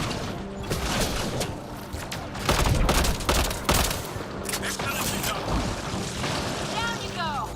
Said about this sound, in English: I just chucked them random grenades.